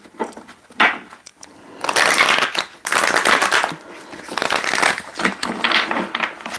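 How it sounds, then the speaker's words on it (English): Tarot cards being shuffled by hand: a series of papery riffling and crinkling bursts, some short and some lasting about a second, close to the microphone and with no talk. "I'm going to shuffle a little bit more."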